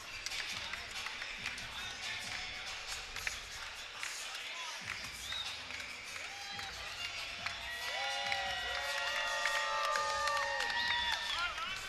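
A largely Albanian crowd at a fight event cheers and murmurs in a large hall, a steady roar with scattered claps and whistles, while commentators talk over it.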